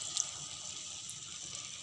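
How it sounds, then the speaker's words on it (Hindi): A cup of water poured into a pan of jackfruit curry (kathal sabzi), a soft, steady splashing hiss that stays quiet and even throughout. "अब हम इसमें डालेंगे 1 कप पानी।"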